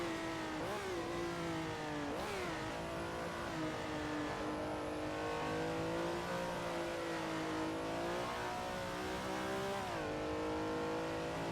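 A Ferrari 330 P4 race car engine in a racing video game revs loud and continuous, its pitch climbing through the gears and dipping at each shift several times, alone with no talk.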